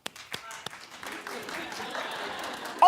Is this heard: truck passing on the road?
no